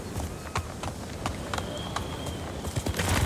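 Horse hooves pound in a quick, uneven galloping rhythm in Ghost of Tsushima, close and fairly loud over a rumbling outdoor bed, with sharp individual hoofbeats standing out.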